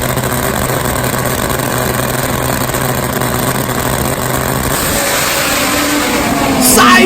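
A top fuel nitro motorcycle drag race roars as a dense, loud, continuous wash of engine noise and crowd din, with the tone shifting partway through as the bikes run side by side.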